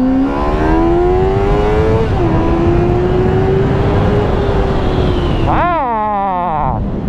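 A Honda CBR600F 102 hp motorcycle engine revving up under acceleration, a loud rising whine climbing through gear changes and peaking before a quick shift blip, heard close over wind rush.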